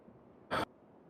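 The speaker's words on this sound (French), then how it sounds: "Et je respire bruyamment." A single loud, sharp breath, like a gasp or snort, bursts out for a fraction of a second, close and alone against a quiet background.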